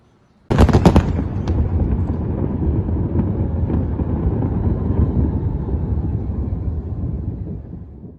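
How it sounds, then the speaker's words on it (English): National Day fireworks in Hong Kong crackle and boom continuously after a sudden loud burst, a dense, rumbling barrage of explosions, rolling on and fading at the end, with wind buffeting the microphone. "there were fireworks celebrations all around"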